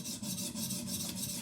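A Benchmade Bugout 535 blade in S30V steel strokes across the stones of a TS Prof sharpener, making a steady abrasive rasp in continuous back-and-forth passes, close and moderately quiet.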